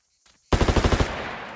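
Rapid rifle gunfire in the video game Martha Is Dead, a sudden loud burst of about eight quick shots in even rhythm, close and sharp, trailing into a lingering echo after a brief faint sound.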